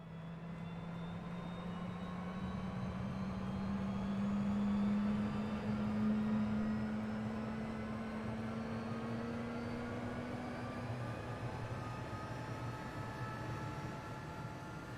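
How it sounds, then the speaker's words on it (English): The twin jet engines of a CJ4 business jet in MSFS2020 spool up from outside, a steady turbine whine rising slowly in pitch over a broad roar, continuous and moderately loud with no talking. "We'll go external and listen to those engines start."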